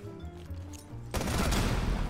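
A sudden burst of dense gunfire in Rainbow Six erupts partway through, loud and continuous, following a quieter stretch of low rumbling game ambience.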